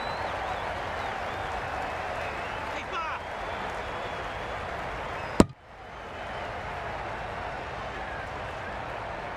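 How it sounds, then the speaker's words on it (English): A Cricket 22 video game crowd at an Australia vs England T10 match produces a continuous roar of cheering, broken by a sharp bat-on-ball crack midway, with a commentator's voice running over it. "The crowd are really getting quite raucous."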